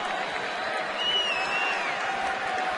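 A baseball stadium crowd during a Tampa Bay at Baltimore game keeps up a steady, distant roar of cheering and applause, with a faint whistle rising above the broad crowd noise.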